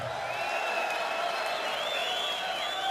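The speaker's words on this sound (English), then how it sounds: "A round of applause for the new member of the Boxing Hall of Fame, HBO's own Gentleman Jim Lampley" Ringside boxing crowd applauding and cheering for a Boxing Hall of Fame inductee, a dense continuous wash of clapping with scattered whoops, fairly loud and steady throughout.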